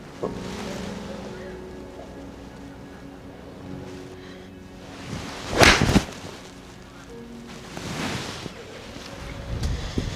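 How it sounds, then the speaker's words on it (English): Wind buffets the microphone outdoors on an open golf driving range in cold weather, in uneven gusts, with one strong rush of wind in the middle and low background rumble. "it's windy"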